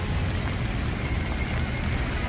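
Steady night rain pouring on a city street, a broad continuous hiss with a low rumble beneath, even and unbroken with no voices.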